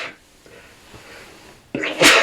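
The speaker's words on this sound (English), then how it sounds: "I need to sneeze now." A single loud, sharp human sneeze bursts out near the end after a faint intake of breath, close to the microphone in a quiet podcast room.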